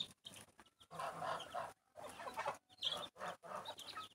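A mother hen clucks and calls her chicks in a series of short, soft bursts separated by brief pauses, fairly close and without talk.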